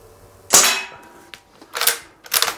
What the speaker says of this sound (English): let's shoot this gun